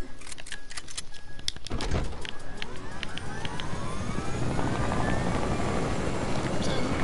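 A helicopter in the Deadpool video game gives a continuous rotor drone that swells and holds after a couple of seconds of sharp game clicks and clatter, fairly loud and close.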